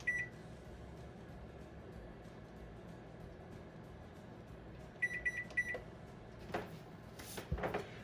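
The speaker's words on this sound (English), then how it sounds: "So I'm gonna set a timer for 45 minutes." An oven timer set for 45 minutes while baking strawberry shortcake gives a short electronic beep near the start and a quick run of three beeps around five seconds in, over quiet kitchen noise.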